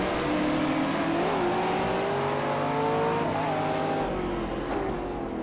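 Race cars at the start of the 13 Hours of Nürburgring in the Project CARS video game, engines loudly revving and climbing through the gears together, a dense steady roar with no talk.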